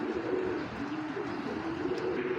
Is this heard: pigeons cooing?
yes